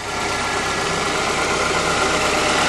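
A tuned-up small Datsun car engine from Pasadena idles steadily at close range, a continuous even rumble with no exhaust leak, with no voices over it.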